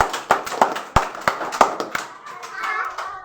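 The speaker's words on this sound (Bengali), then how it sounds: "হাততালি দাও সবাই" Scattered, uneven hand claps from a group of children at a quiz about the Murshidabad district officials, a few sharp nearby claps that thin out into a soft murmur of voices.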